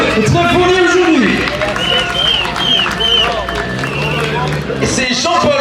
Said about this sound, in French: Allez, on applaudit cette classe N2